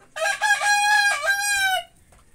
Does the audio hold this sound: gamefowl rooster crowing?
yes